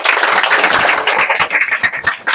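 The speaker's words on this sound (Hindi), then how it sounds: "वेरी गुड, जोरदार ताली" Loud applause from students in a class, a short burst of clapping that comes in quick uneven bursts and stops abruptly.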